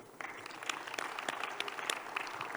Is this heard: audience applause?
yes